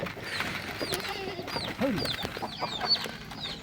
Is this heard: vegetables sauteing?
no